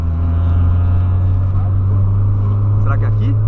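A Volkswagen Polo Sedan accelerating hard, its engine a loud, steady drone heard from inside the car throughout, with brief voices near the end.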